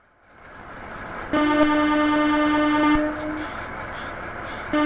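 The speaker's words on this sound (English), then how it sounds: "I also noticed that the air horn on the E233s is recycled from the Kiha 40 that comes with the Tadami line." A JR East E233-series commuter train's air horn in Train Simulator sounds one loud, steady tonal blast lasting about a second and a half, then trails off over a low rumble before a short second toot begins at the end.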